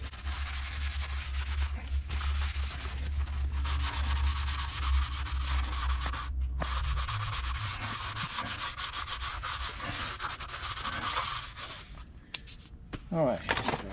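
Sandpaper rubs back and forth on the surface of a koi pond skimmer box before a JB Waterweld repair, a steady close scratchy rasping with brief pauses, and a little low background noise near the end.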